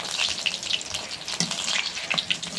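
Besan-battered leaves and egg fry in hot oil, a close, continuous sizzle with bright crackles and spitting pops scattered throughout, no voices.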